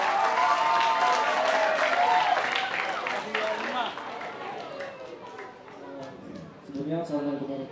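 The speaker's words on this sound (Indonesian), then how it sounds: "Kita kasih tepuk tangan dulu untuk Wahyu." An audience at a school alumni talk event gives sustained applause, dense clapping that is loud at first and gradually thins, with a speaker's voice over it and a voice returning at the end.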